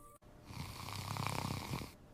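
An animated character snores once, a single long, rasping breath that swells in the middle and fades out, close and clear against a quiet background.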